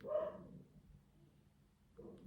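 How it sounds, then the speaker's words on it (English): A dog barks a couple of times at moderate distance, one short bark at the start and another near the end, with quiet room tone between. "Can you hear the dog?"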